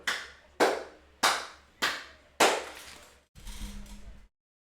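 Five sharp, loud hand claps land at an even pace, each ringing off briefly, followed by a short dull rumble at the end.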